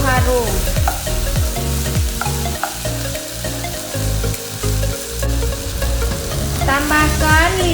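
Chicken sizzles in a pan with chopped, crushed lemongrass for Thai-style chicken soup, a continuous loud fry broken by scraping stirs and clinks of the utensil, with no talking.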